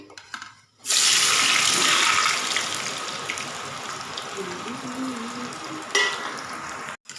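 Elephant yam pieces fry in hot refined oil, giving a loud, steady hiss that begins abruptly after a quiet second and runs on without a break. A brief, faint voice sounds partway through.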